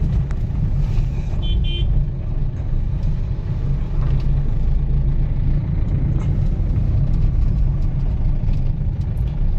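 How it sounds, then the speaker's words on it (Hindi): A Ford car pulls forward in second gear on an empty road, with a steady, loud engine rumble heard from inside the cabin and no talk. "अब हमने क्लच पूरा छोड़ दिया, तो हमारी कार आगे मूव होने लग गई है।"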